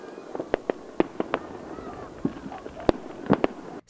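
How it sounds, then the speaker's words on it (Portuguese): New Year's Eve fireworks bang over Pato Branco in a scattered series of sharp, fairly distant explosions, some in quick clusters, against a low background hum. "a virada do ano em Pato Branco teve fogos de artifício"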